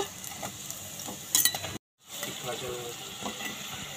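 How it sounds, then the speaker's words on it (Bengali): Muri tiffin snack frying in oil on low-medium heat, with a steady close sizzle, a few utensil clinks, and a brief dropout midway. "ওই জন্যে লো মিডিয়ামে রেখে আমি ভেজে নিচ্ছি"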